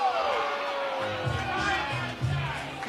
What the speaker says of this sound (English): Crowd here can't believe it.